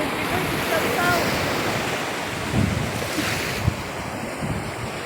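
Strong sea waves at Vista Freedom Park crash and roar steadily, with heavy wind buffeting the microphone and a few faint voices in the background.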